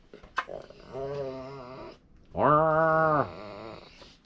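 A dog growls and whines while playing in two drawn-out, throaty bursts, close by, with a short pause between them.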